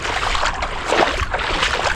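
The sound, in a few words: boat on water in the Sundarbans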